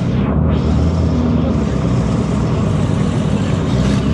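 A McLaren 720S at a Dubai drag race produces a steady, loud engine rumble. The deep, broadband roar holds without a break, with no clear gear changes.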